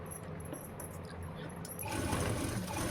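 A sewing machine fitted with a standard presser foot stitches down a blouse lining, running in a steady mechanical whir that grows louder and denser partway through.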